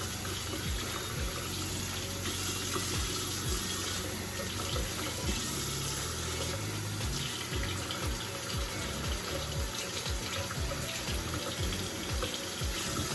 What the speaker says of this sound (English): lukewarm water to rinse all this guy off, all the developer and bleach and stuff off